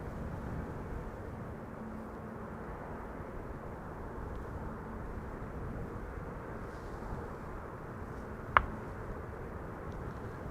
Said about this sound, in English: Embraer 190 arriving from Brussels